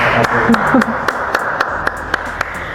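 Sparse audience handclaps sound for the girl chosen to carry the tray bearing the Indonesian red-and-white flag, scattered claps over background chatter and talk that stays under them throughout.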